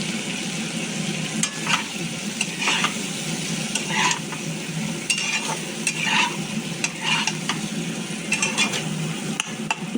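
Mango chutney seasoned with salt and dry chilli powder sizzles in a pan while a spoon scrapes and stirs it in repeated strokes, close and steady with no talking.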